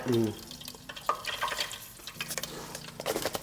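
Mustard seeds crackle in hot oil in a pan for a canned tuna fish curry, giving soft irregular pops and a light sizzle alongside a brief voice and some stirring clatter.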